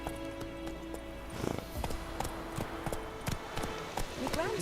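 Roach the horse gallops in Witcher 3, with quick, repeated hoof clip-clops rising and falling at a steady pace alongside game ambience, while someone talks over it.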